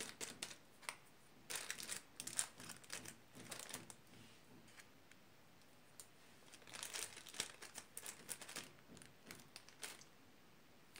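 Lobelia seeds sprinkled from a small paper packet during sowing, giving soft bursts of dry crinkling and rustling paper in two main clusters, close and quiet, with no talking.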